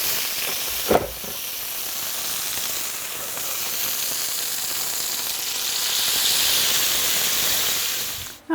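Chicken pieces cooking in a pan give off a steady, close hiss and sizzle that carries on for several seconds, with one brief knock near the start and no voices.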